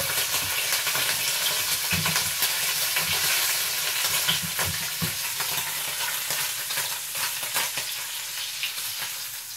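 Bacon strips fry steadily in a hot pan, a dense continuous sizzle and crackle with scattered pops, close and fairly loud throughout, with no talk.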